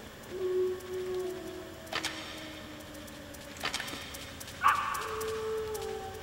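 Dog in the video game Metal Gear Solid, a few short, sharp barks spaced a second or two apart, moderately faint against quiet game ambience with soft tonal game sounds.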